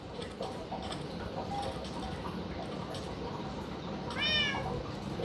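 A cat in the Minecraft video game meows once near the end, a short rising and falling cry over a soft steady background hiss and faint ticking.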